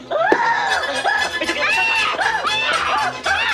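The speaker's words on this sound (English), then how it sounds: "She screamed." A woman's high, wavering scream in a comedic murder-mystery scene, loud and close, rising and breaking in repeated bursts with laughter-like catches.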